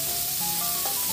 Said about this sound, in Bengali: কড়াইতে দেওয়ার পরে একটু ভাজা করে নিতে হবে, একটু লাল লাল করে ভাজা করে নিতে হবে।